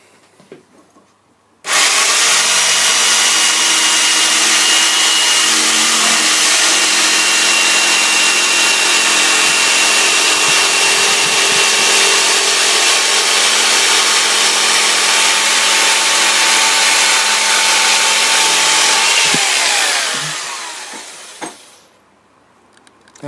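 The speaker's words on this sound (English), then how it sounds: "I thought perhaps you all might want to see me actually cutting it out with the jigsaw" A jigsaw cutting a wooden house sign pattern, a loud continuous buzzing saw roar running for about eighteen seconds, close and alone, then winding down to quiet.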